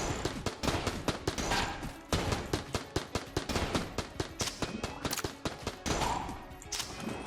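Laser lotus gun from Enter the Gungeon fires in a rapid, steady stream of sharp bursts. The loud shots repeat almost without pause, with only short breaks, and no one speaks over them.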